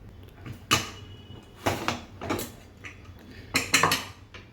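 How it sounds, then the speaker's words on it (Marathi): A pressure cooker lid is worked open after cooling, with several metallic clanks and creaks in short bursts, close by and with no talk. "आता आपण कुकर उघडून बघूया."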